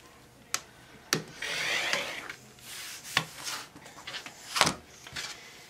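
Fabric edge is trimmed on a table in a few short cutting and rubbing strokes, close and fairly quiet, with sharp taps and knocks between them.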